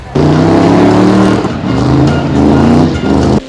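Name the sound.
cars at a demolition derby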